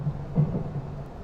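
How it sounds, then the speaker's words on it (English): Thunder from a weather mod in Train Simulator 2022 rolls as a low, muffled rumble with a brief swell, moderate in loudness and heard alone. "I really like to hear a good thunderstorm when playing a simulator"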